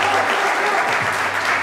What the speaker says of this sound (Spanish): quiero un fuerte aplauso para ellos, por favor